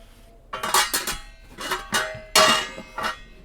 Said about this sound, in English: pots and pans.